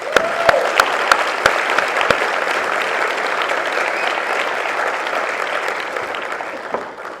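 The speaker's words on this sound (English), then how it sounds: "I'd like to just give you all a round of applause." A conference audience breaks into applause, a dense, steady clapping that starts with a few sharp individual claps and holds at an even, moderately loud level throughout, slowly thinning near the end.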